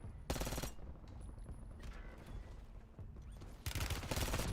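Bursts of rapid automatic gunfire in the video game Call of Duty Warzone, one near the start and another at the end, with lower combat noise and faint chatter between them.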